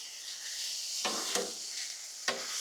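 Beef and broccoli tossed together on a Blackstone griddle: a steady soft sizzle with a few sharp spatula scrapes against the flat-top, close and fairly quiet.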